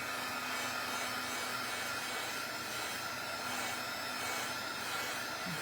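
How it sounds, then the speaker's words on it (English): A handheld hair dryer blows steadily and loudly from start to finish, a continuous close-up whoosh of air drying ink on a craft surface. "now I'm going to dry this"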